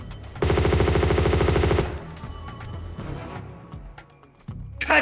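Rapid burst of M16 rifle fire in a video game, a dense automatic volley lasting about a second and a half, loud and close, then fading into quieter game ambience.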